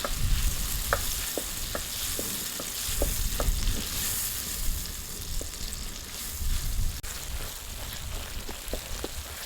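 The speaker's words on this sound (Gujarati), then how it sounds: "હવે આપણે મસાલો નાખી દઈએ આમાં કાંઈ આપણે વઘાર નથી કરવાનો" Leftover spice paste with a little tomato fries and is stirred in a pan for a stuffed sponge gourd curry, giving a steady close sizzle broken by repeated scraping clicks of the spoon against the pan.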